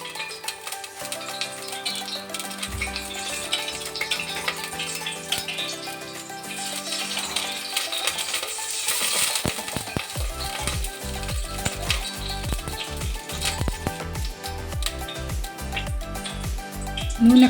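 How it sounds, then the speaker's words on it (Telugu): Oil heats in a wok on a stovetop, giving a steady low sizzle with faint crackles, then denser popping and stirring clatter in the later half, heard alone without voices. "స్టవ్ ఆన్ చేసి బాండి పెట్టి అందులో ఒక 8 టేబుల్ స్పూన్ల నూనెని యాడ్ చేసుకోండి."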